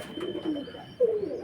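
Old-bloodline pigeons coo softly and close by, two short low calls separated by a brief pause.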